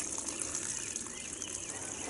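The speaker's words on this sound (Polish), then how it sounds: "dlaczego Dawid leje tyle wody" Water poured out in a steady, close splash and trickle during a fishing trip, continuous and fairly quiet across the whole stretch with no voices.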